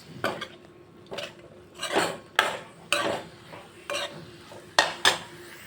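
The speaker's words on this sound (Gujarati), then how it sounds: "આપણે બધા જ શાકભાજીને મિક્સ કરી લઈશું ને ગોલ્ડન બ્રાઉન સુધી એને હું કૂક કરી લઈશ" Vegetables stirred with salt in a pan while cooking to golden brown for dal khichdi, heard as spaced scraping clinks of a spoon against the pan, about eight strokes, with faint sizzling underneath.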